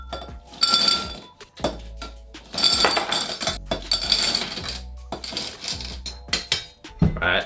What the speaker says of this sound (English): we'll go fill our Hurricane glass with crushed ice